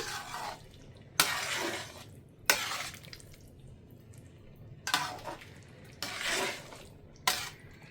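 Spoon stirring potato curry with chopped coriander in a pan, short bursts of scraping and clinking against the metal pan, repeated about six times with quiet sizzling between strokes.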